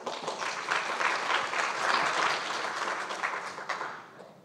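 A conference audience at the COSCUP open-source gathering breaks into applause, a dense wash of many clapping hands swelling and holding for a few seconds before tapering off near the end.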